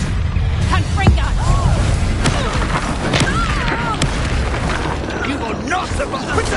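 A Confringo spell explodes with a deep boom and burst in the video game Hogwarts Legacy, set among dense battle effects, crackles and swirling magic, with a voice shouting over the continuous loud din.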